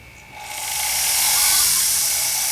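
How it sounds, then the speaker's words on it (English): A cup burr grinds the cut end of a sterling silver ear wire, giving a close, high-pitched whirring hiss that starts quickly and then holds steady. There is no talking. "So I use a cup burr and go around"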